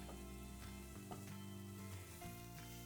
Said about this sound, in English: I got my onions, in they go into the pan. Oh, sizzle already.